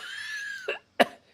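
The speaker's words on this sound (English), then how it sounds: "you got that old man cough" Two short coughs, the first softer and the second sharper and louder, come close together after a steady tonal hum.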